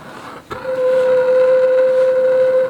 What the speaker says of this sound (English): Hey, that actually whistles.